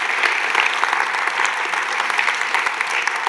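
A church audience applauds and cheers in a steady, dense wash of clapping that lasts throughout, loud and close, with no break.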